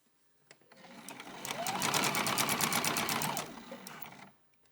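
A sewing machine stitches a beginner's purse in reverse, a rapid continuous mechanical whirr that ramps up and runs steadily for about three seconds, close and fairly loud, with brief clicks at the start and end.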